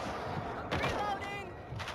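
Rapid gunfire from shooting zombies in the World War Z video game, with sharp bursts over a busy game soundscape and some voices talking.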